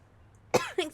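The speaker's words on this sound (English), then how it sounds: "Excuse me, I keep coughing my throat." A single short cough followed by a second, softer rasping cough, close and isolated against near silence.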